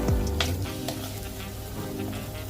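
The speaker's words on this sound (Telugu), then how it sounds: "ఉల్లిపాయలు వేగిపోతున్నాయి చక్కగా." Onions frying in a pan, turning light rose in color, a close steady sizzle with a few stirring scrapes, no talk.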